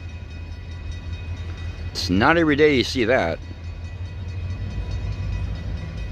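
A GP38 diesel locomotive halted at a fire department for water sounds a harmonic horn blast lasting about a second, over a low steady idling rumble, while someone talks nearby.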